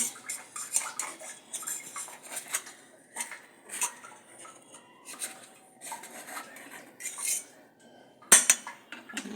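A knife clicks and scrapes against a plate while cutting a cooked egg, in a quick series of light taps, with small clinks in between and one sharper knock near the end.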